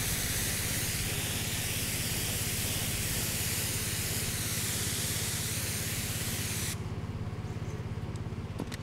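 A high-pressure spray gun at about 15 to 20 bar sprays pine oil herbicide onto blackberry bushes, giving a loud, steady hiss that runs unbroken for most of the stretch before cutting off sharply near the end.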